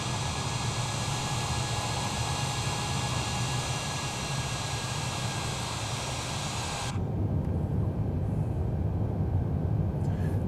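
A Qantas Boeing 787-10 taking off in Microsoft Flight Simulator, a steady loud roar of jet engines holding throughout, with the high hiss dropping away sharply partway through while the low rumble continues.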